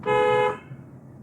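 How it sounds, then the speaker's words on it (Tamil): A single short car horn honk, loud and close, cutting off after about half a second into quiet road noise. "ஒரு தடவை ஹார்ன் அடி"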